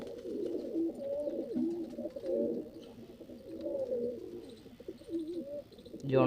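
Close, continuous throaty cooing from a white-eyed Jonsri female pigeon with a black beak, swelling and fading in waves over a quiet background with light chirps.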